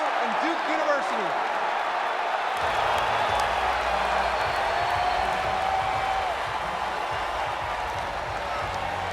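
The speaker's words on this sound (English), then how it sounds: "You heard all the Knicks fans in here chanting your name" Crowd of Knicks fans in an NBA 2K20 basketball video game arena, a steady roar of cheering and applause filling the whole stretch with a brief chant-like swell early on.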